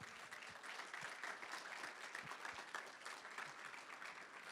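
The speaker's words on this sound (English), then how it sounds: "Give yourselves a round of applause." Audience applause at a precinct recruitment meeting on a Sunday morning, a steady, moderately faint wash of many hands clapping with no talk over it.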